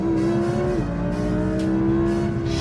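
An Audi R8 V10 Plus accelerates at full throttle from about 70 mph, its engine a loud continuous roar that rises steadily in pitch after a brief dip, close and with no talk.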